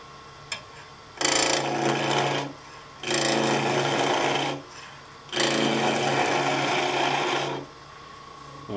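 Green wood turned round on a lathe with a 1-inch Sorby skew chisel: three long, loud bursts of rasping cutting, each a couple of seconds, separated by short pauses with the lathe humming quietly between them.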